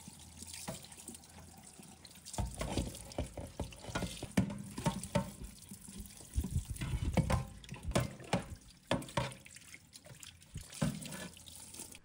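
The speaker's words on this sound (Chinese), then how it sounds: "最后用清水冲洗干净" A greasy pot lid is rinsed under a running kitchen tap, with a steady hiss of splashing water broken by irregular louder gushes and clatters as the lid moves through the stream.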